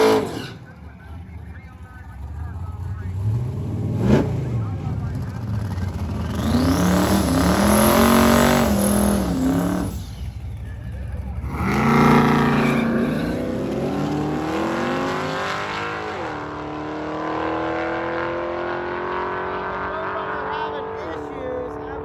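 Loud engines roar and rev as drag racing cars launch hard down the strip at a drag-and-drive event, the pitch climbing through gear changes before fading into a distant drone.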